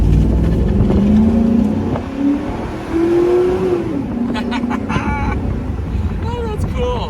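A 2004 Chevrolet SSR convertible pickup driving with the top down on an overcast day, engine note rising as it accelerates around a corner, with wind rush and some clicking.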